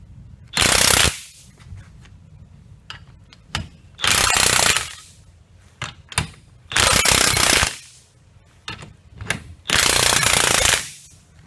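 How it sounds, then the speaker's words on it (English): A coil spring compressor is driven tight on a 2019 Honda Pilot front strut with four loud, close bursts of rapid mechanical hammering, each about a second long, separated by quieter pauses with small clicks and handling noises. "the important thing with the compressor is just to make sure you're doing it evenly on both sides"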